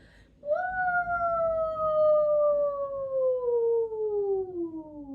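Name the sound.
voice imitating a siren, sliding high to low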